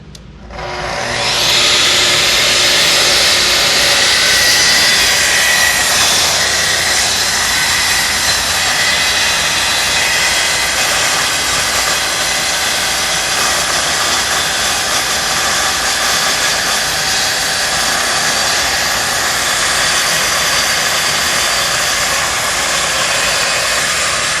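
Power saw ripping a straight cut through wood, spinning up sharply and then holding a loud, steady high whine for over twenty seconds, close and alone with no talk.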